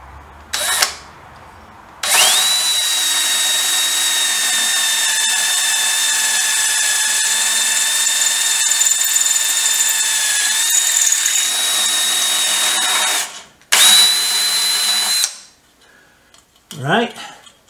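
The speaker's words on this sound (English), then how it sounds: "now I'm going to drill a hole there, drill a hole on the other side" Electric drill boring bolt holes on a Triumph 500 Otter, a loud close steady whine held for about eleven seconds, then a second short burst after a brief pause, with a quick rev before and faint handling noises after.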